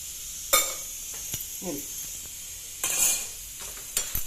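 Onions frying in a little oil for onion chutney, a steady sizzle with occasional scraping stir strokes in the pan and brief clatters, moderately close.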